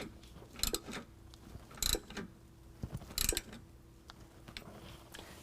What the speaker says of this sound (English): we're going to go ahead and tighten down the bolt on the bottom, also using a 17mm